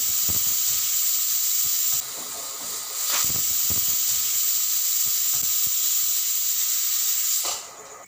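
Steady, loud hiss of steam escaping from a pressure cooker whistling while cooking bottle gourd on low heat, continuous for several seconds with a brief dip partway and a softer tail at the end.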